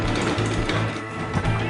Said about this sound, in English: they are loaded into a honey extractor, which uses centrifugal force to spin the honey from the cells